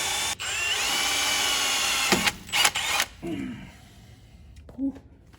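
A power drill with a bent, wobbling bit bores a pilot hole on a Jeep for about two seconds, with a steady whine, then sputters in short bursts and stops, leaving a quiet pause and a brief voice.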